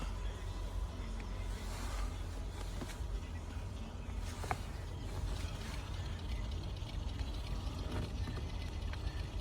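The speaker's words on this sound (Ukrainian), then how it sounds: "запустили двигун" A Skoda Octavia with a 1.6 MPI petrol engine runs at idle during a pre-purchase inspection. It gives a steady, close, low mechanical drone with faint ticking and occasional clicks, and no speech.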